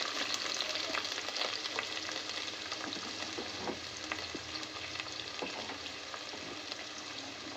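Carrot, bell pepper, beans and cabbage sizzle steadily in a hot pan for vegetable fried rice, with scraping spatula strokes stirring them throughout, close and continuous.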